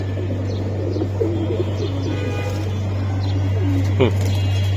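A pair of red-patti pigeons coos at a pigeon market in a low, rolling rhythm under a steady hum, while people talk nearby and a short chirp cuts in near the end.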